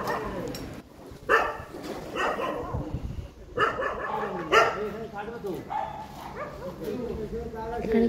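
Neighbourhood street dogs at night during a power cut bark repeatedly in bursts, some yelping and whining, close and loud, with people talking underneath.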